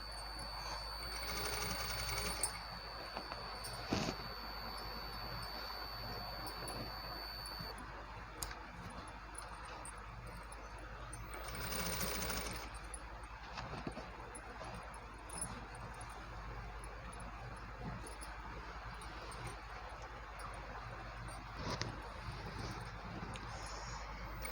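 A sewing machine stitches box pleats on a can-can lehenga with a continuous, fairly quiet mechanical whirr and rapid needle ticking that goes on uninterrupted with no talk.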